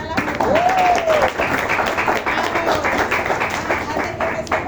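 A medical class breaks into applause, a steady patter of many hands clapping at once, with a voice speaking over it.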